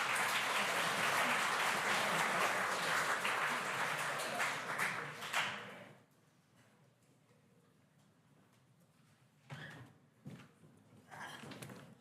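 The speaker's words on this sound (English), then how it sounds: "Another big round of applause for Albert and his team." Loud applause from a conference audience for a team of presenters fills the first six seconds, then cuts off to near silence, with a few brief bursts of clapping or stray noise afterward.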